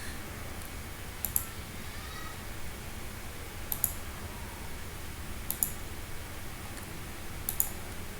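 A computer mouse clicks four times at spaced intervals, each a short, crisp, close tick standing out against a faint steady room hiss.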